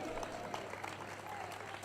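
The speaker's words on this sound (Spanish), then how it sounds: "Un aplauso." A crowd applauding steadily, a dense patter of many hands clapping at moderate volume throughout.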